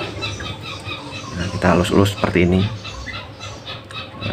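A young spotted dove squawks in repeated harsh bursts close by, while a person talks over it.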